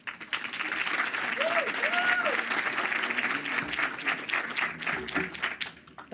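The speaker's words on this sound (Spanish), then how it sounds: "Un fuerte aplauso a Carolina." Sustained applause from an audience at a corporate presentation, steady and full for several seconds before tapering off, with a voice briefly audible underneath.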